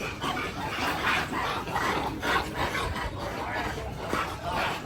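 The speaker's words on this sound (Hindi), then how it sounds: "बंदर और कुत्तों की लड़ाई है।" Dogs bark in a fight with monkeys outdoors at Faisal Mosque in Islamabad, a continuous noisy scuffle of barks and shrieks over crowd and wind noise, with faint voices in the background.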